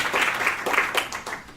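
An audience claps hands in a lecture hall, a brief burst of scattered, overlapping claps at medium distance that fades toward the end.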